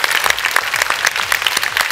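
Hearty clapping from a small group rewards a voice performance, with crisp, rapid hand claps close by in a steady patter throughout.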